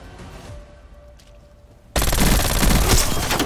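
Heavy video-game gunfire erupts abruptly after a quieter stretch, a dense, loud, continuous rattle of automatic weapons and overlapping shots that fills the rest of the moment.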